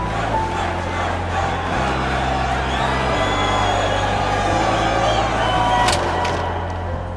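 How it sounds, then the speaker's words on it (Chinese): A crowd cheers and roars at a wrestling event in a film about an aging wrestler walking out backstage, a dense, steady wall of voices with shouts rising above it and low sustained tones underneath. "耳边响起的是欢呼喝彩的声音"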